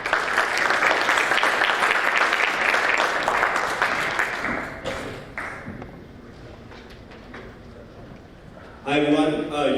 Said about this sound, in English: please give a round of applause for the moderator